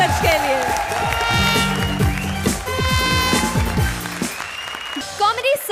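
Studio audience applause on the Indian TV comedy show Comedy Circus, greeting the challengers, loud and continuous, mixed with music stings, horn-like toots and tonal effects, with voices woven in.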